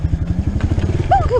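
A motorcycle engine bump-starts on a trail and runs with a rapid chugging, clattery beat, loud and close, with a brief squealing tone near the end.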